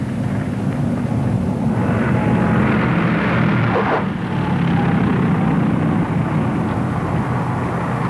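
Lockheed P-38 twin engines drone steadily and loudly throughout, a continuous broad roar with a slight swell midway and no talking.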